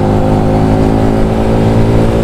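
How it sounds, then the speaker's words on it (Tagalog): A manual motorcycle engine in traffic moves between engine braking and throttle, a loud, close, steady mid-pitched drone that holds without gaps for about two seconds, with no talking. "Ayan, engine brake, gas,"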